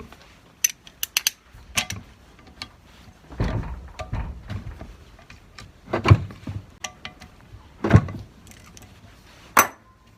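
A soft blow mallet strikes the lacquered parts of an old Fill-Rite fuel pump being restored. Several separate dull knocks land a second or two apart amid light clinking of metal parts, close by, with no talk.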